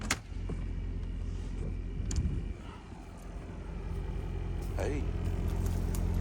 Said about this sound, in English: Y'all listen to that motor back here